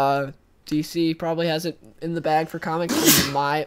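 A single sharp sneeze bursts out partway through, loud and close, in the middle of one person's continuous talk about comics.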